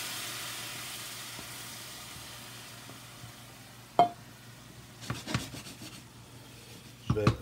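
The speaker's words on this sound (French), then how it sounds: "Je vais déglacer avec mon bouillon, comme ça." Broth poured into a hot pan of bacon for a carbonara gives a faint, fading steam hiss, followed by a few sharp clinks and scrapes of a utensil against the pan.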